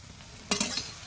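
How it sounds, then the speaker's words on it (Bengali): Soybean chunks frying with salt and turmeric in a pan, a soft sizzle with a couple of quick stirring scrapes close by, no voices. "এবার এর মধ্যে সামান্য একটু পরিমাণ লবণ আর হলুদ দিয়ে ভাজা ভাজা করে নেব।"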